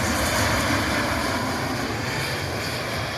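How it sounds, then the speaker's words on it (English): A Southwest Airlines Boeing 737 MAX 8 arriving at Cleveland Hopkins International Airport from Chicago Midway gives a continuous broad jet roar with wind-like hiss, steady and fairly loud throughout with no voices. "Southwest Airlines 4693. It's a MAX 8 and it's inbound from Chicago Midway."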